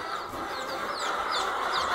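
Hens and young chicks cluck and peep in a steady, close chorus, with high chirps scattered over a continuous clucking background.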